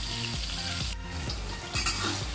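Potatoes fry in hot oil in a home kitchen while a sardine sambal is being prepared, giving a steady close sizzle with occasional stirring scrapes and no talk over it.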